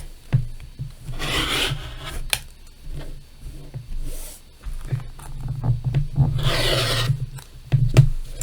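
A rotary cutter slices quilting fabric into 6.5 inch squares along a ruler, giving soft rasping, rubbing strokes in a few separate passes with brief pauses between them, close and moderately quiet.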